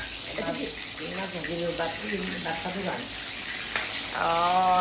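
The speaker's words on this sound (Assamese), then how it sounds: "এইফালে মাছ ভাজি আছে" Fish fries in a pan with a steady sizzle, while a voice speaks over the hiss.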